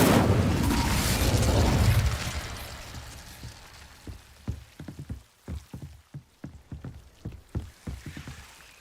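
Incendio fire spell cast in Hogwarts Legacy: a loud, dense burst of fiery roar for about two seconds, then a string of sharp crackles and pops that thin out and fade.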